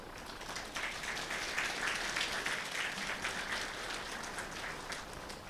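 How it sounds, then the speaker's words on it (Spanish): Congregation applause at a special church service, steady mid-level clapping that starts abruptly and holds throughout, a dense wash of many hands without pauses. "le damos un saludo de aplausos"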